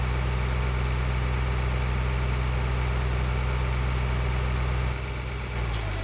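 A large farm vehicle's engine idles in Farming Simulator 2013, a steady loud low rumble with a constant hum that shifts slightly near the end.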